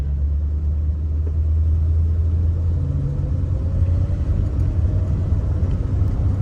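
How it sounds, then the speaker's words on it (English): The Fireball V8 of a 1955 Buick Special Series 40 two-door hardtop gives a steady, low, smooth rumble while driving slowly in traffic. The drone stays even throughout, with no revving and no voices. "But engine sounds lovely, just a low rumble from the Fireball V8."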